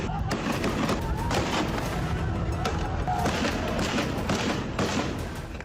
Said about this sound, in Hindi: सिंध के अहिंसक आंदोलन को कुचलने के लिए प्रदर्शनकारियों पर सीधी फायरिंग कर